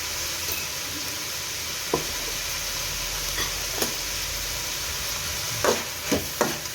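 Ghee frying steadily in a pan for fried rice, a continuous close sizzle with a few sharp clicks of a spoon or spatula against the pan, no voices.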